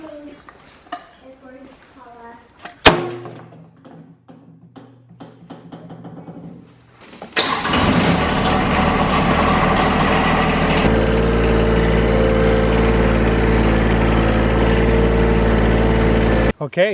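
A farm tractor used to stretch garden fencing starts with a sharp crank and catch, then settles into a loud, steady idle that runs on close by without a break.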